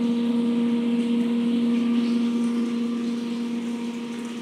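Sand filter pump running beside an outdoor koi carp pond, a steady low electrical hum with a strong constant tone and faint mechanical whir, continuous and unchanging at close range.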